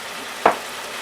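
Filling for a tamale pie browning in a pan gives a steady low sizzle, with one brief louder clatter or stir near the middle.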